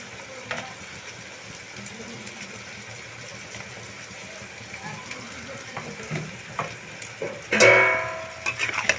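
A spoon stirs bottle gourd with ginger, cumin and dried chilli paste in a pan, with a steady low sizzle, soft scraping and a sharper clatter of the utensil near the end.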